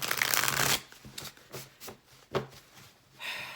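Tarot cards shuffled by hand, a dense riffling burst up front followed by several softer separate flicks and slides of the deck, close and alone with no talk.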